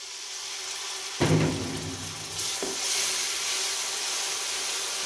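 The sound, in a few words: spices frying and sizzling in a pan for kofta curry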